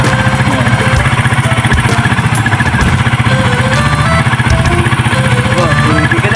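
A motorcycle engine runs close and loud right after the wash, a rapid, even, chugging idle that holds steady throughout.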